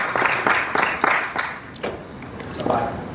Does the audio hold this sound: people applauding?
yes